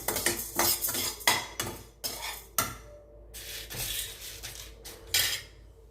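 Toor dal dry-roasting in a pan, stirred with a metal spoon that scrapes and clinks against the pan in quick, uneven bursts, close and fairly loud with brief pauses between strokes.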